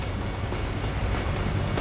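A train rolls past a truck stopped at a crossing, a steady close rumble with faint rail clatter filling the whole stretch and no voices.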